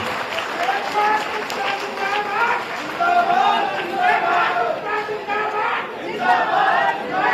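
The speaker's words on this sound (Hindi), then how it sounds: "जोरदार तालियां बजा करके उसका स्वागत करिए" A crowd at an outdoor political rally in Shalimar Bagh, addressed by a chief minister, breaks into applause and cheering, with sustained clapping and shouts mixed with a loudspeaker voice and babble throughout.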